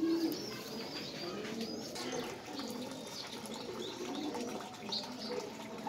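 Pigeons cooing at a loft where a pair is offered for sale, soft repeated coos with a few chirps and wing flutters over steady background noise, a voice faintly present.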